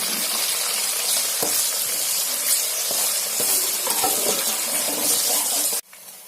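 Onions, tomatoes and green chillies fry in plenty of oil for an Andhra fish curry, giving a loud, continuous sizzle with scattered stirring knocks before it cuts off abruptly. No voices.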